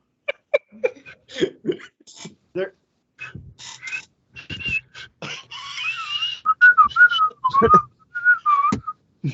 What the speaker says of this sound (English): we got a chance to watch you attempt to whistle on this show